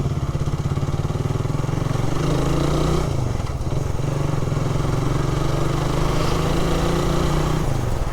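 Motorcycle engine running on a village street in Cikancas, a steady mid-pitched drone holding close and loud throughout, with a slight shift in tone partway through as it moves.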